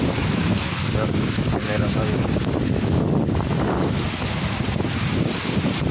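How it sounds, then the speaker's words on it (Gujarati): Steady, dense roar of heavy rain mixed with gusting wind buffeting the microphone, loud and continuous throughout. "હજી વધી રહ્યો મિત્રો વરસાદ પવન છો"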